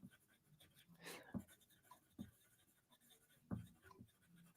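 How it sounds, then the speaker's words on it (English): Pen strokes scratch across paper as notes are written by hand, a few quiet separate scribbles and taps close by in a hushed room. "I'm just going to write this down."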